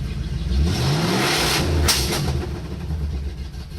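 A 1984 Chevy C-10 engine revs up close, a loud low rumble that swells and eases, then settles back toward idle.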